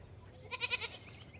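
A goat on a homestead lets out a single short wavering bleat, fairly close and clear over a faint rural background hum.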